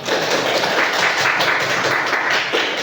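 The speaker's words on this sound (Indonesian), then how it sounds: "Ya, jadi tepuk tangan dulu untuk kelompok 1, 2, dan 3." Classroom applause for student groups in a religious studies lesson, steady massed clapping from students filling the room at an even level throughout.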